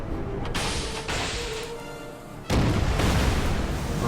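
Torpedo and shell explosions in the naval wargame Order of Battle at sea: a few sharp blasts and cracks over steady rumble, then a louder, dense explosion about midway that lingers as a noisy roar.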